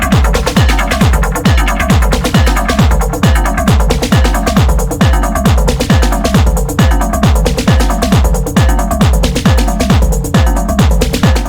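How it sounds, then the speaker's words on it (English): Playback of a recorded techno jam session from an Ableton project, with a steady, loud four-on-the-floor kick and dense percussion and synth layers running continuously without any talk. "So this is the session exactly how I saved it after recording the jam."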